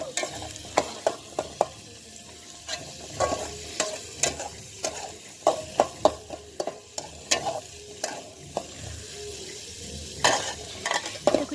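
Green chili, peas, onion, ginger and garlic frying in a pan, a steady sizzle broken by repeated sharp scrapes and clinks of a spatula stirring against the metal, close and fairly loud with no voices.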